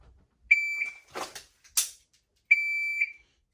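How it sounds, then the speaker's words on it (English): Two sharp electronic shot timer buzzer beeps, each about half a second, separated by a few quick sharp live-fire gunshots in between; nearby and clear. "I was getting shot number 6 off just as I heard the buzzer."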